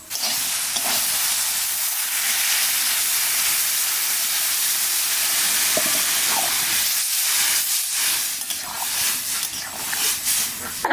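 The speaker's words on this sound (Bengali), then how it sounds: "মটর সোয়াবিন সব কষায় নিলাম এইবার জল দিয়ে দেবো" Water poured into a sizzling potato, chickpea and soybean curry sets off a loud, steady hiss of steam that runs close and unbroken, with faint talk in the background.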